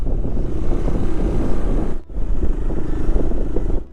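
A motorcycle ridden along a narrow, winding mountain road toward Mayodia Pass in Arunachal produces a loud, continuous engine rumble mixed with heavy wind buffeting. Two short dips in the noise break the rush, and no one speaks.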